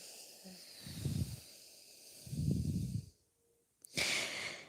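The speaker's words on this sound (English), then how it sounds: "Breathing through your nose." Slow nasal breathing during a yoga class, two soft broadband breaths close to the ear about a second apart, followed by a short pause and a brighter, hissier exhale at the end, with no talking.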